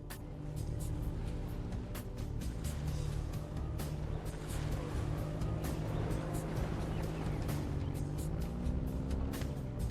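The Warthog military vehicle in Halo Infinite drives with a steady, loud engine hum and rumble, rising slightly in pitch toward the end, heard without speech.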